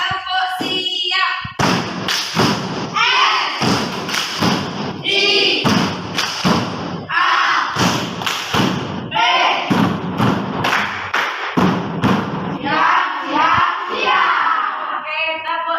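Schoolchildren in a classroom perform a rhythmic 'tepuk siap' clapping chant at the start of a morning lesson: loud, close bursts of claps in repeating patterns, with the children's chanting voices between and over them throughout.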